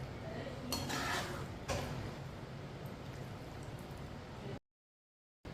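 Turnip curry being served onto a plate, with soft scraping and a couple of light clinks of a spoon against dishware, close and quiet, over a steady background hiss before a brief dropout.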